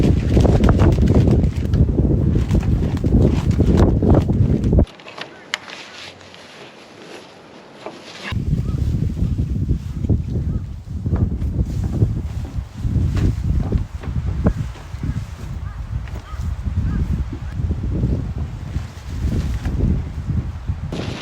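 Strong gusting wind at a winter solo campsite in bitter cold, loud roaring buffets against the microphone, a brief lull, then steady rushing gusts that continue to the end.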